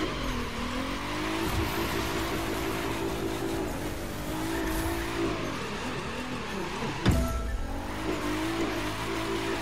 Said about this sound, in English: Building up with some combo drift is going to be tested out with a Pro Drift car.